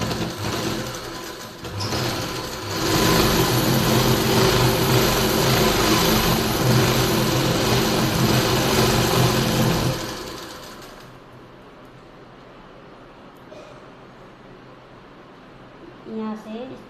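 A sewing machine runs steadily while stitching a trouser seam, loud and close, for about eight seconds before stopping, with someone speaking over it and continuing after it falls quiet.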